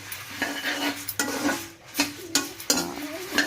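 Coriander seeds and curry leaves are dry-roasted in a pan while a spoon stirs them, making repeated metallic scrapes and clinks at an uneven rhythm over a faint crackle, close up with no talk.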